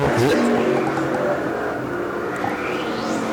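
Sunoco Modified race cars race around the Thompson oval, with a loud, constant engine roar and passing drones as the field goes by. An announcer's voice runs beneath the noise.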